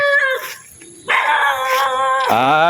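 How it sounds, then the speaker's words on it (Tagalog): A dog barks repeatedly and close, with sharp yips and a drawn-out whining howl between barks, heard alone without talk. "Ang tapang ng aso na to."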